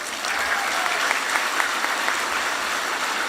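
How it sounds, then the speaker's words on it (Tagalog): An audience at a speech by President Rodrigo Duterte claps steadily, a dense, fairly loud wash of many hands without pause, with no voice above it. "Pumapalakpak kayo"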